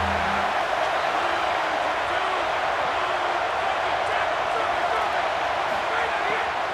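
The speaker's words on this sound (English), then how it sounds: "The Buckeye crowd alive on third down." Roaring stadium crowd at an Ohio State Buckeyes home game in the College Football 27 video game, a steady dense wash of cheering throughout, with a commentator talking over it.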